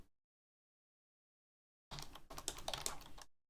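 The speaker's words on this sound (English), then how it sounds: "Now I'm getting tired of typing in this test case" Fast typing on a computer keyboard, a dense burst of clicking keystrokes lasting about a second and a half after near silence, close and clear.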